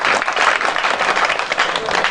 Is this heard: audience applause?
yes